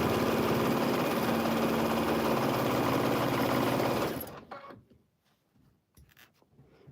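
A sewing machine back tacking a quilt runs as a steady close motor whir for about four seconds, then stops, leaving faint scattered clicks and handling noises.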